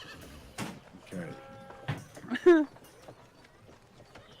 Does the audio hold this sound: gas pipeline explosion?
no